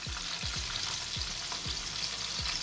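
Flour-coated chicken fillet frying in hot oil, a loud, steady close sizzle broken by a few low thumps of the pan or utensil.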